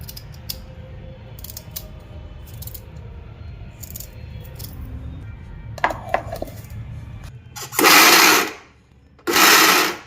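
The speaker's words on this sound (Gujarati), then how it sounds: "આવી રીતે બંધ ચાલુ કરીને ઝટકા મારીને ગ્રાઇન્ડ કરવાનું।" A mixer grinder blitzes green chillies, garlic and ginger in a jar, in two loud bursts of whirring near the end after quieter rattling and clinks of preparation, pulsed on and off.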